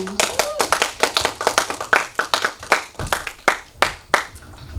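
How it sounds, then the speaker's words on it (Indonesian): Audience applause at an awarding night for a horror film festival in Bali, a dense run of claps close by that swells and fades in uneven bursts, with a few voices underneath. "kita tepuk tangan dulu ya"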